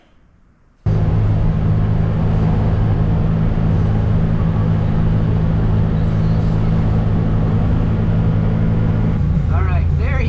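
A Can-Am Defender side-by-side pulls away after a quiet start, its engine settling into a loud, steady droning rumble with wind noise, heard close from inside the vehicle.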